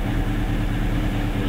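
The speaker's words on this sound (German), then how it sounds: "Das sind feine Züge, ja. Regional." A regional train runs past with a steady, dense rumble and rolling hum that stays loud and unbroken throughout.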